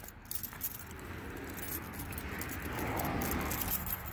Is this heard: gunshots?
no